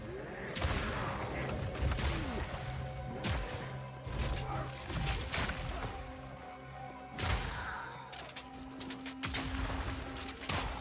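A crossbow in Path of Exile 2 repeatedly fires Glacial Bolt, giving sharp, loud impacts with crashing bursts spaced every second or two over a steady background of game noise.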